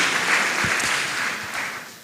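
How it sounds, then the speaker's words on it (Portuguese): A church congregation claps steadily in a short, dense stretch of applause with faint low thumps mixed in. "Você pode aplaudir o Senhor?"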